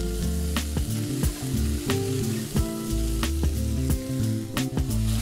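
Chopped vegetables and green peas sizzle loudly in a pan while being stirred, with repeated spatula scrapes and taps over soft background music.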